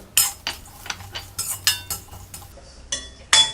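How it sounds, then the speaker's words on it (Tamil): A spoon scrapes and clinks against a pan as grated coconut is dry-roasted and stirred; a series of sharp, uneven metallic scrapes rises and falls close up, with no voices. "இப்போ தேங்காயை நல்லா ஈரப்பதம் போகிற வரைக்கும் நல்லா வறுத்துக்கலாம்."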